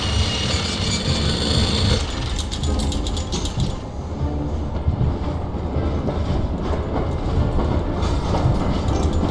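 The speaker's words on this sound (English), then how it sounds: "That is actually a pretty cool looking train." A train in the video game Syberia runs with loud, steady mechanical clanking, ratcheting gears and rumbling rail noise that carries on without pause and without talk.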